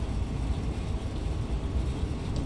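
A locomotive rumbles along in Train Sim World 2, a steady low, heavy drone of engine and rolling wheels with no pauses or talk.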